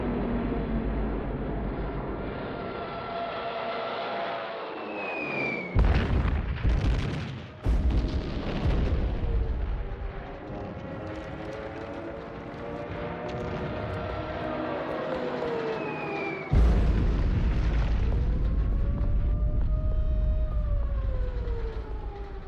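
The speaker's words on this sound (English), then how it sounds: "On the 25th of September, Hitler orders the bombing of Warsaw." Bombing of besieged Warsaw: deep booming blasts and rumbling with droning aircraft and a wailing siren-like tone, loud sustained roar broken by sudden heavy impacts.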